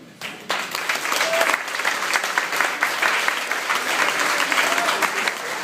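A crowd bursts into steady applause, clapping loudly and continuously for several seconds with a few cheers mixed in.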